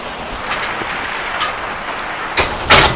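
Steady rain pours down on a goat farm with a constant loud hiss, a few heavier splashes and drops standing out near the end.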